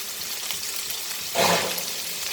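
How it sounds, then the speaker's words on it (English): Broccoli dropped into a hot pan on a high flame for Manchurian sauce, giving a short burst of close sizzling about midway through, otherwise quiet and without talk. "now we'll add our broccoli and fry it nicely"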